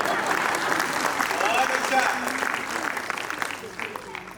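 An audience at a kavi sammelan poetry recital applauds, a dense wash of clapping that swells and then gradually fades, with some voices mixed in.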